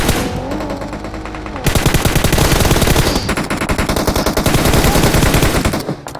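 Rapid automatic gunfire from the PUBG video game, dense continuous bursts of shots with a short change in texture midway, loud and close with no speech over it.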